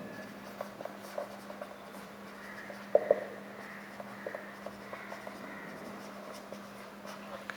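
Numbers are written by hand during a sixth-grade math lesson, a quiet run of scratchy pen or chalk strokes with a few sharper taps against a low steady hum, no speech.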